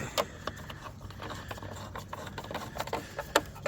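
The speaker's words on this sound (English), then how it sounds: "I'm just gonna use a ratchet of some kind" A ratchet tightens a bolt on a junkyard Saab 9-5, producing a quiet, rapid, uneven clicking close by with faint rubbing in between and no voices.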